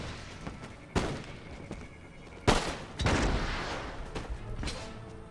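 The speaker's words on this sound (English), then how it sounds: "Platoon fire is coming down." Platoon volley fire from musket line infantry in a video game battle, sharp cracking salvos at a few irregular intervals followed by a rolling rumble of distant shots, with faint voices in the background.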